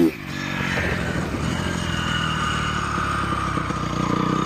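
A 2017 Honda CRF250R dirt bike, recently fitted with a new fuel filter after sitting in storage, runs with a steady, close, buzzy engine note and light mechanical clatter.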